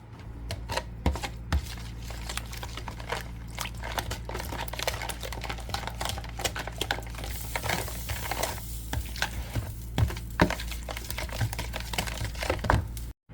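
A spoon stirs and mixes a thick yogurt mixture thinned with a little milk in a home kitchen, giving a steady run of soft wet clicks and scrapes close up, with no talking over it.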